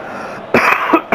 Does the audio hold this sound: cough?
yes